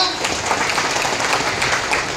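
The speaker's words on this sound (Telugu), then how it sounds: "ఒకసారి గట్టిగా చప్పట్లు కొడితే చెప్తా" An audience at an e-bike company meeting in Nellore claps loudly and continuously, a dense close patter of many hands with no pauses.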